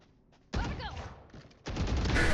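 Gunfire in the tactical shooter Valorant, two loud bursts of shots separated by a short lull, close and dense, with no talk over them.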